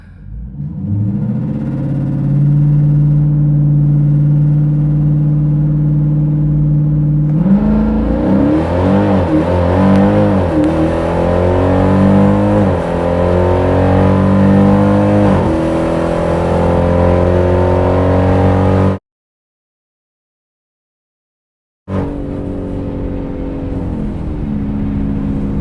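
Modern street Hemi cars at a dragway: a loud engine idles steadily, then roars hard through rising and shifting gears under full acceleration, then cuts briefly to silence before engine noise resumes.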